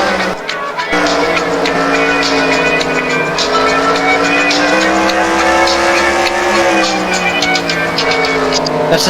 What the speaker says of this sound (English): That's the sound of Tony charging through the field